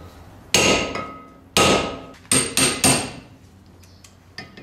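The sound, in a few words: hammering out brake rotor screws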